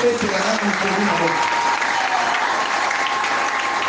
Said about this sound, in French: Acclamez d'abord pour l'Écriture